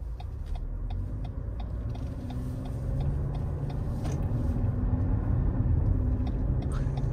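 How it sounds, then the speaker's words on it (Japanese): A steady low engine rumble from a Lexus NX runs throughout, heard from inside the car, with faint regular ticking on top. "エンジン音違くないですかこれ"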